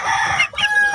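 Chickens kept as backyard poultry, one red with a straight comb, crowing and clucking loudly and close by for about a second, with a short dip midway before the calls resume; no talking.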